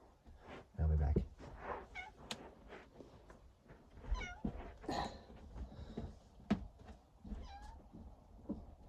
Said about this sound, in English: Whoever that meowing was, that was my cat.